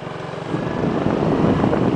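Motorcycle engine revving up and building steadily during a beginner's riding lesson, a rising broadband drone with wind buffeting on the microphone, growing louder after the first half second.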